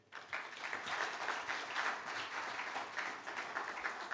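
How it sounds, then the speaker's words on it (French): Audience applause fills a press union congress hall, a steady dense clapping that swells and holds for several seconds at moderate distance, with no speech over it. "Vous pouvez l'applaudir, s'il vous plaît."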